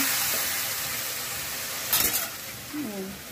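Spice paste sautéed in a pan, a steady dense sizzle with a brief louder scrape of stirring partway through, and a voice murmuring faintly near the end.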